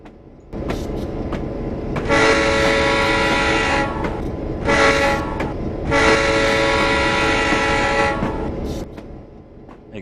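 A Rio Grande F9 locomotive in Train Simulator 2016 on the Feather River Canyon route sounds its horn in several long loud blasts over a steady rumbling engine and rolling wheels, with no talking.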